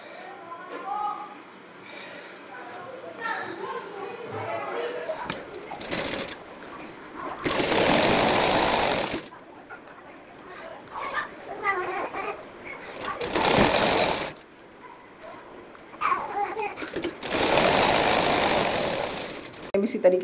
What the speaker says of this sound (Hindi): तो हम पहले एक तरफ मोहड़ी पे सिलाई चलाएंगे।